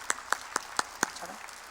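During a worship service at a Korean church, a handful of sharp, fairly quiet claps land in a quick, even rhythm, about five in a row, then stop.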